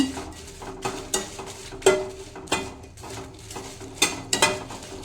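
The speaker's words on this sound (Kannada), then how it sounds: "ಹಿಂಗೆ ಇದು ಫ್ರೈ ಮಾಡಬೇಕಾದ್ರೆ ಇದೇ ಥರನೇ ಕೈ ಆಡಿಸ್ತಾ ಇರಿ, ಇಲ್ಲಾಂದರೆ ತಳ ಸೀದೋಗ್ಬಿಡುತ್ತವೆ ಮೆಣಸಿನ್ಕಾಯಿ ಇವೆಲ್ಲ" Red chilies and spices dry roasting in a pan while a spoon stirs and scrapes, with repeated metallic clinks and scrapes at an uneven rhythm and a faint sizzle beneath, close up and with no talking.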